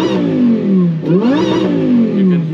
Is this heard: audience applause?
no